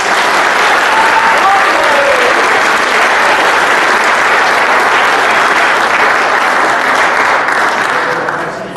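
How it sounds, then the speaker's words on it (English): Sustained, loud audience applause at a high school football banquet honoring the seniors, a dense wash of many hands clapping that stays steady for several seconds before tapering slightly at the end. "So let's give them one more round of applause"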